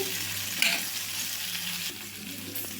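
Onions frying in a pan ahead of curry leaves for a bitter gourd onion masala, a continuous close sizzle with occasional stirring clatter, no voices.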